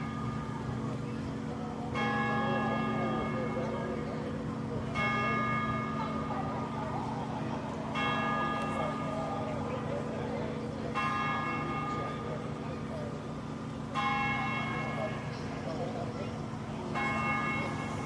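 A church bell chimes at eleven o'clock at an outdoor Earth Day event in Ellington, giving about six evenly spaced strikes every three seconds or so over a steady crowd murmur and distant traffic hum.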